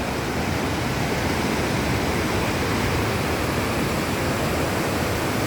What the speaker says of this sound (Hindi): पानी की आवाज़ कितनी तेज़ है कि मेरे रूम तक भी सुनाई देता है